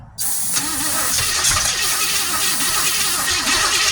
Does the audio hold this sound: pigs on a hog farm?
no